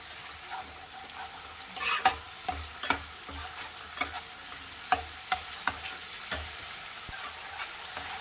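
A Bengali pointed gourd malaikari masala paste with yogurt stirred and frying in a pan, steady sizzle underneath with a series of distinct spoon scrapes and knocks spaced through, close and moderately loud, no voices.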